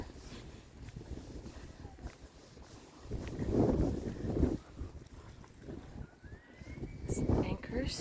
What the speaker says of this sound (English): little wind.